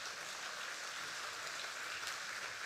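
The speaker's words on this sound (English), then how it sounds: "give a big round of applause to Kaleidoscope." Audience applause at a leadership event, a steady quiet wash of clapping with no distinct claps, heard from a distance and sustained throughout.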